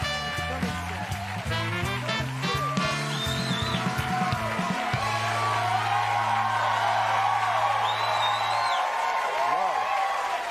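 Studio audience greeting comedian Norm Macdonald on a talk show with steady cheering, whoops and clapping that fill the whole stretch, while a band plays loudly at first and then stops partway through.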